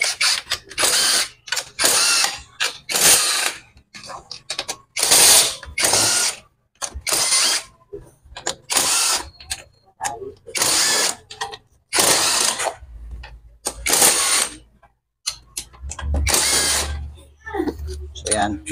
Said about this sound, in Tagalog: luwagan na po natin lahat ng tornilyo